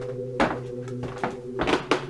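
A drawer opens on its own in a quiet room, giving a few short wooden thunks and sliding knocks in quick succession, close by, over a steady low hum.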